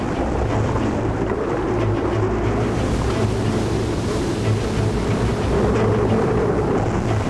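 Powerful rushing water surges through a dangerous river waterfall, a loud, unbroken roar with wind buffeting the microphone and no voices.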